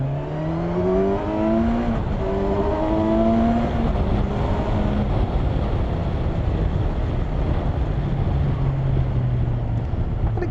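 A 2020 Kawasaki Versys 1000 motorcycle accelerating with the throttle opened, its engine note rising through several gear changes over steady wind rush, heard close from the rider's position.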